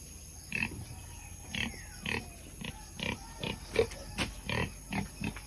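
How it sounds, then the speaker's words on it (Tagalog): Native pigs on a farm grunt and oink in short repeated bursts, close by, with a steady hum in the background. "At yan po yung iba na native na baboy."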